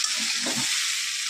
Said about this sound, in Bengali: মশলার সঙ্গে ভালো করে ফুলকপি আলুগুলো কষিয়ে নেব।